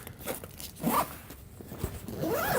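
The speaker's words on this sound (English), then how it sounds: "So each side has these zippers" A side-access zipper on a Peak Design 45L travel backpack is pulled open in a few quick, close, raspy strokes, loud and alone with no talking.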